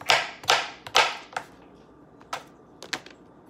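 Knife chopping chicken on a cutting board: sharp, close knocks in an uneven rhythm, three strong chops at first followed by lighter, scattered taps.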